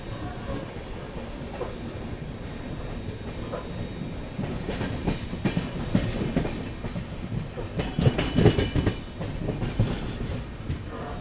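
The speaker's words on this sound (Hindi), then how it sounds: "हम लोग पहुँच रहे हैं भिलवाड़ा रेलवे स्टेशन" Rajasthan Humsafar Express train 22985 pulling into Bhilwara railway station, a steady rolling rumble with wheel clatter that grows louder and busier toward the end.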